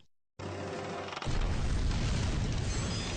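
A cartoon explosion as SpongeBob's overloaded vacuum blows up: after a brief silence a loud whooshing build cuts into a heavy, sustained rumbling boom.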